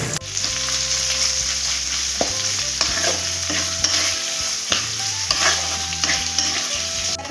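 Three medium sliced onions sizzle in hot oil in a pan for a mutton dak bungalow curry, a dense steady frying crackle with stirring scrapes and low clunks, close and continuous, no voices.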